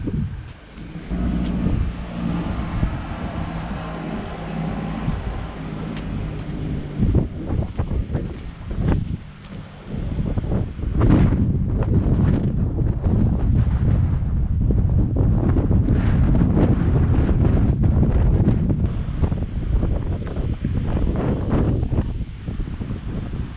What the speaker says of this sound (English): It's a bit windy today as well too